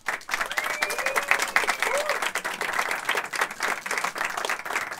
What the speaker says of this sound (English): Give a big round of applause for Tom Odell.